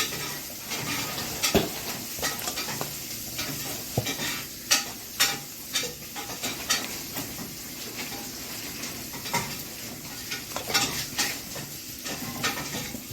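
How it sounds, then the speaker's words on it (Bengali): Mashed sweet potato being worked into semolina by hand or spoon makes a continuous soft stirring and squelching, dotted with irregular light clicks and taps, no voices. "এখন আমি রাঙা আলুটাকে দিয়ে সুজির সঙ্গে মেশাবো অল্প অল্প করে মেশাবো"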